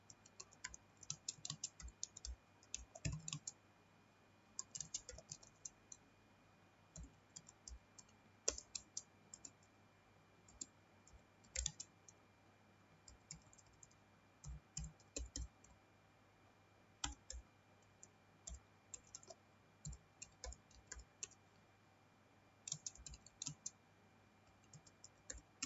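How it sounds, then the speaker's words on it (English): Computer keyboard typing while a program is entered into Notepad, coming in quiet bursts of rapid clicking keystrokes separated by pauses, faint and close, with no talking. "We have to first open the notepad and now we'll type the program."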